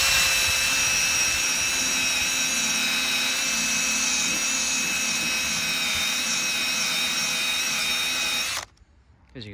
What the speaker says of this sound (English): Just put on a drill, put on your faster setting.